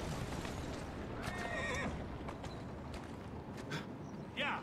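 A horse in the Assassin's Creed Syndicate video game whinnies several times over a steady bed of game ambience, with hoof clip-clop and a final sharp neigh near the end.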